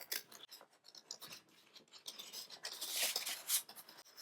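Scissors cutting around a traced paper circle: a run of soft, crisp snips and rustles that grow louder toward the end, close and fairly quiet, with no talk.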